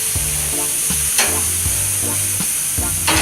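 Skirt steak and shrimp kabobs sizzling loudly on a hot surface after flipping, a dense continuous hiss close up with a few clanking utensil hits and low tonal hum underneath.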